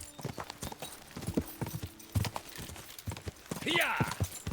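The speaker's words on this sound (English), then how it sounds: "See how good Father Godwin's horse is." Father Godwin's horse galloping in Kingdom Come: Deliverance II, rapid rhythmic hoof clip-clops with a whinny near the end, while someone talks over it excitedly.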